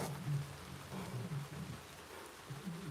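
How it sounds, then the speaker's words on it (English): Steady rain falls outdoors in a dense, even hiss with a low rumble underneath, continuous and moderately close, with no voices. "I can hear the rain coming down harder."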